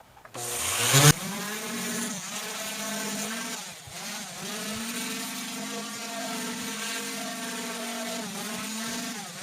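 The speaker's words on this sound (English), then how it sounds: "we should sand the handle with the grain, but this pad is pretty well smooth" A pad runs along the wooden handle of a vintage axe being cleaned up. It makes a steady, humming, whining power-tool drone that holds on at an even level after a brief louder burst at the start.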